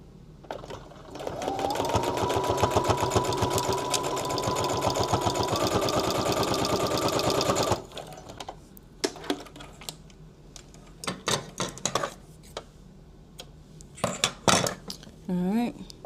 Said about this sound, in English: I'm just going to sew straight across the bottom